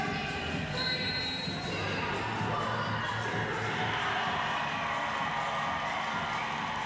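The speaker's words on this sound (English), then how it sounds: "as the crowd erupts once again" Volleyball crowd cheering and roaring in the Flair Airlines hangar in Edmonton during a Canada vs Mexico men's match, a dense, sustained wall of noise with whoops and shouts throughout.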